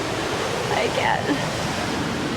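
Rushing water from an Oregon waterfall forms a steady broadband roar, with a voice speaking briefly over it near the middle.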